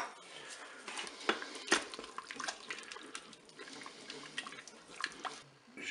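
Crème fraîche and mustard are stirred together in a pan, with soft, irregular scraping and wet spoon clinks close by, quiet and without talk.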